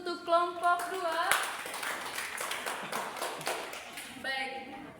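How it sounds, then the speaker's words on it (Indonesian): Classroom group claps for a presenting student group in a social studies class simulation, a scattered, fairly faint round of clapping over a few seconds with voices talking at the start and end. "Oke, tepuk tangan dulu untuk kelompok 2."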